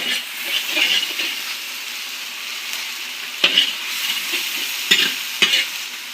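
A spoon stirs and scrapes tomatoes and potato curry frying in a pan, with a steady sizzle and hiss broken by several sharp scraping clacks against the pan.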